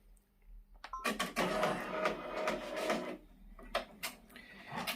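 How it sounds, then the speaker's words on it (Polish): A Brother PR 670 embroidery machine runs a stitching pattern, starting after a second of quiet and then holding a dense, rapid mechanical chatter with brief pauses and restarts near the end. "I teraz puszczamy ten wzór. Musi nam to maszyna zrobić."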